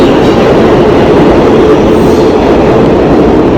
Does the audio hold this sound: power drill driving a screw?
no